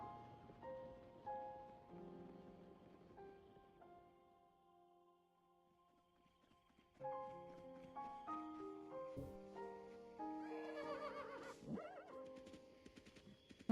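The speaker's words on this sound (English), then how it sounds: "Oh, you can tame any horse now, I guess." A horse neighs and whinnies within a Zelda video game trailer, blended into an orchestral score with sustained tones and rising notes, no talking.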